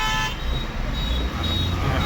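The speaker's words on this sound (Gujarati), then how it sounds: "અરે હોર્ન માર્યા વગર જવા દે ને હવે" A car horn sounds amid steady road traffic noise during rain, with a constant engine and road rumble filling the short moment.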